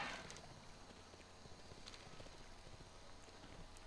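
Horse mount hooves in World of Warcraft clip-clop at a steady walking rhythm, faint and even, heard alone over a soft ambient bed.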